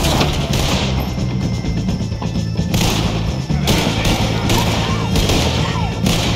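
Dense gunfire from a Red Dead Redemption 2 shootout against O'Driscoll gang members, with overlapping shots and crashing impacts that stay loud and continuous throughout, mixed with game voices.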